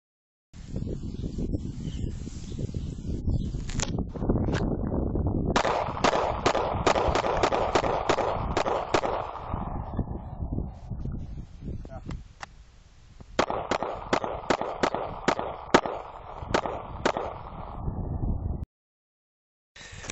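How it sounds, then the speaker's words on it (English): A Glock 30 SF pistol fired through two magazines, loud sharp reports in rapid bursts with brief pauses between strings, a lull mid-way for the magazine change, then silence. "now I will show you a video of me shooting 2 magazines of this gun"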